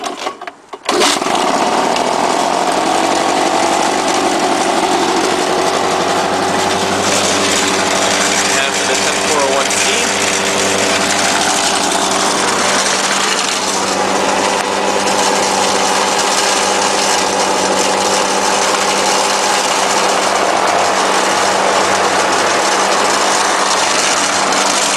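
Small lawn equipment engines idle continuously until running dry of fuel, a loud, steady droning close by that holds level throughout after a quick start.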